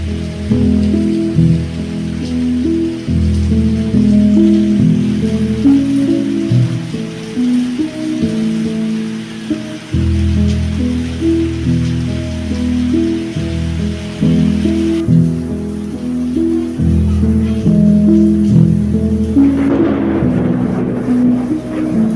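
Heavy rain pours down outside a house during a power cut and lightning, a steady dense patter mixed with a low droning hum that continues throughout.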